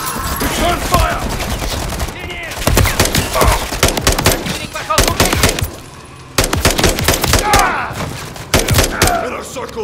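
Heavy automatic gunfire in a firefight from the shooter game Call of Duty: Modern Warfare III, with dense rapid bursts and single shots coming in repeated waves and brief lulls, close and loud, with shouted voices mixed in.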